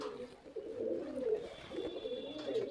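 Pakistani pigeons in a fancier's collection coo softly and continuously, low rolling calls overlapping at close range against a quiet background.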